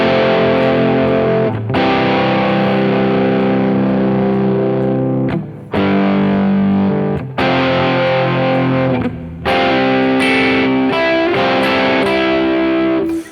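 Electric guitar with heavy distortion plays a riff, loud sustained power chords in bursts with brief gaps between phrases, ending in quicker choppy strums.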